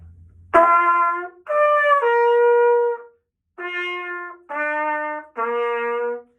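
Bright trumpet notes played in short separate phrases, slurring upward from G to high C, the top C sounding slightly strained and pinched.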